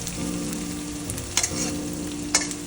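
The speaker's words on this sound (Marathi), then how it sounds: "लालसर भाजून घ्यायचे कांदे" Onions frying slowly in a pan on low gas give a continuous gentle sizzle, close by, with two short scraping stirs about a second apart.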